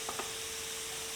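Chopped onion fries in a pan for potato dumpling filling, giving a soft, steady sizzle with a couple of faint stirring clicks at the start.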